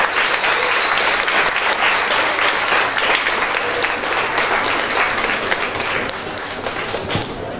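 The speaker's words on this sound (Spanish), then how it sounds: "pido un aplauso para todos los que estamos" A seated audience gives steady, dense applause at the close of a school bilingual education session, with the clapping continuing loud and even for several seconds under faint murmuring.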